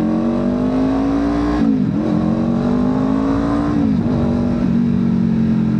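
A Kawasaki Ninja motorcycle engine revs hard while riding, climbing in pitch through two gear shifts with brief dips between, loud and close over steady wind noise.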